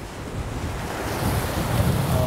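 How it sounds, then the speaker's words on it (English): Rough sea waves crash and splash against the rocky shore at Batroun, Lebanon, in strong wind, a loud continuous roaring wash that swells toward the end with wind noise on the microphone. "So windy and sea splashing all over them."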